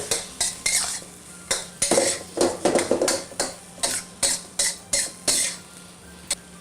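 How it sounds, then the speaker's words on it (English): Pork fried rice being stir-fried in a pan with sweet soy sauce: a utensil scrapes and clatters against the metal in quick repeated strokes, with a soft sizzle underneath and no talking. "We'll give it a stir fry."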